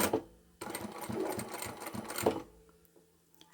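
A sewing machine stitches bias binding onto scrap fabric, a quick close whirring run of needle strokes lasting about two seconds between quiet pauses, with no talk.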